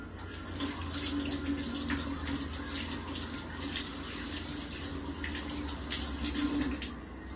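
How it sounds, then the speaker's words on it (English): Kitchen tap water runs steadily into a sink while hands are washed during salmon patty preparation, a continuous close hiss with faint clinks and splashes throughout. "I'm going to just wash up and I'll be right back."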